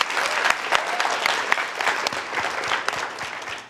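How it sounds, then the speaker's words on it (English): A conference audience claps steadily in a sustained round of applause for a cohort of Indigenous correspondents, dense and even throughout, with sharper individual claps standing out. "So if you could give a round of applause for our rest of our cohort."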